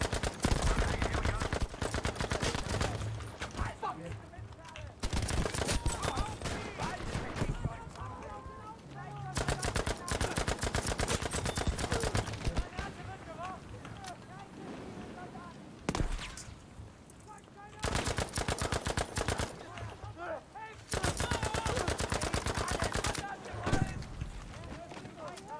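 Rapid bursts of video game gunfire from a solo hunt match crackle in dense volleys with short gaps between them, with game voices talking over the shooting.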